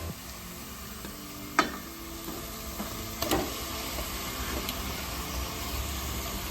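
Chicken sizzles softly in a pan of green spinach and coriander paste, a steady low frying hiss with a few sharp clinks of utensils against the pan.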